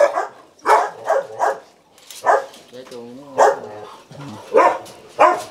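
Belgian Malinois dog barking in loud, spaced single barks and short bursts, close by, with a person talking in between.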